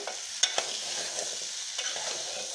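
Diced potato fries in a pan with a paste of garlic, coconut and crushed peanuts while being stirred, giving a soft continuous sizzle with a couple of sharp utensil clinks near the start.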